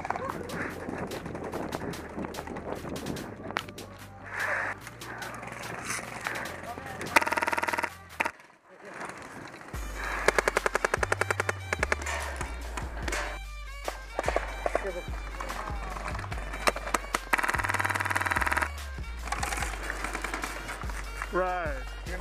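Airsoft guns fire in an outdoor team battle, with rapid bursts of clicking shots, running footsteps and players talking throughout.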